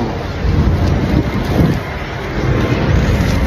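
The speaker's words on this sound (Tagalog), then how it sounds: "It's raining. It's raining." Steady rain falls in Armenia with a broad, continuous hiss, gusts of wind-like noise swelling and easing throughout, no voices.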